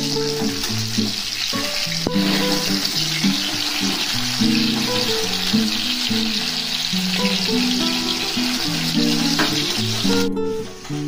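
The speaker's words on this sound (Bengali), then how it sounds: "তো মাছের আমার এক পিঠ ভাজা হয়ে গেছে, আমি এবার উল্টে নেবো। উল্টে অন্য পিঠ ভালো করে ভেজে নেবো।" Bata fish frying in a pan and being flipped to cook the other side; a loud, continuous sizzle with a clatter near the start, over faint tonal background music.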